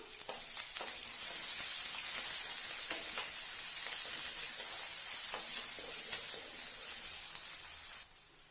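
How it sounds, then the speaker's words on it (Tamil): Large cut onions sauté in hot oil in a pan, giving a steady, close sizzling hiss with occasional stirring clicks that carries on evenly and then cuts off near the end. "இதையும் இதில் போட்டு நல்லா வதக்கி எடுத்துடலாம்"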